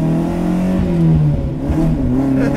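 The 1.6-litre engine of a 1969 Lancia Fulvia Rallye 1.6 HF revs hard, its loud, steady mechanical note rising and falling close by with no talk over it.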